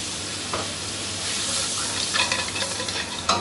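A sauce of white wine and liquid cream sizzles in a pan, giving a steady bright frying hiss with a few soft stirring scrapes near the end.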